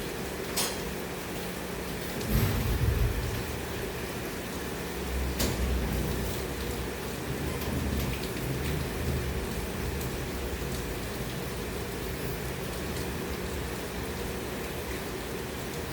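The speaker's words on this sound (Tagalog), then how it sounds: "Parang maulan na" Steady rain pours during a storm, a dense continuous hiss with a few louder thumps and rattles near the start, steady and unbroken throughout.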